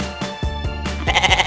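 A goat bleats loudly and close up several times in quick succession, the wavering cries running together toward the end, with no talk over them.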